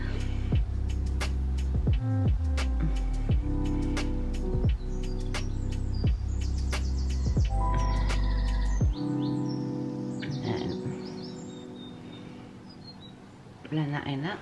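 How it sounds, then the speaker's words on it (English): Birds chirp and tweet outdoors, with quick bursts of high calls that grow busier and more layered toward the end, over a low background hum. "Just hear the birds, that's all you can hear."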